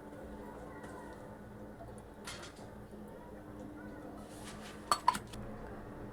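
A pressure cooker is handled on the stove while making pav bhaji, with faint metallic knocks and two sharp clinks of metal near the end over a low background hum.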